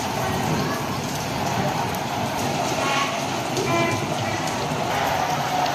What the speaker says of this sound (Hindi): अभी बारिश की भी आवाज़ है और बाहर से भी आ रही है।